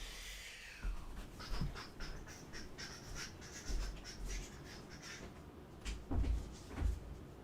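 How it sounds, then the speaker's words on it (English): A room door being shut during a live gaming stream at home: a series of soft knocks and thumps, then a louder pair of bumps near the end as the door closes, fairly quiet and close, with no talking. "just shut my door, just so I just keep the noise down a little bit"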